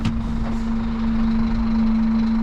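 A truck reverses on a Norwegian mountain road, its engine a loud, close, steady hum with a sustained tone running throughout and no separate beeps showing.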